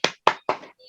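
Three sharp, evenly spaced claps in a quick classroom 'tepuk semangat' cheer pattern, close and fairly loud, with a brief faint tone trailing at the end.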